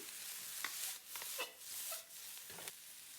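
Shrimp stir-fried in a wok with green onions and black pepper for salt and pepper shrimp, giving soft, steady scraping and sizzling with a few sharper spatula strokes, close and fairly quiet.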